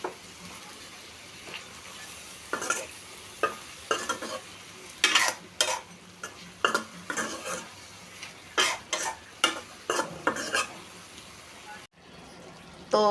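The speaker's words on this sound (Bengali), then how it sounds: "ঝিঙ্গা দিয়ে চিংড়ি মাছ দিয়ে রান্না করব। কষিয়ে নিব" Ridge gourd and shrimp are stirred and sautéed in a pan. A spatula scrapes in quick, repeated strokes close by over a continuous sizzle, and a short louder burst comes at the very end.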